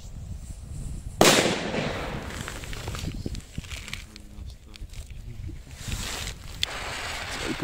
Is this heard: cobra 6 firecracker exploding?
yes